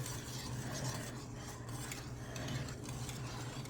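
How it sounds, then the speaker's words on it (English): Peas being stirred into a creamy soup in a pot: soft, continuous scraping and swishing of a spoon, quiet and steady with a low background hum and no voices. "Now we're going to add our peas. Stir that together."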